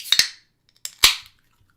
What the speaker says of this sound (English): And you get to crack open the can.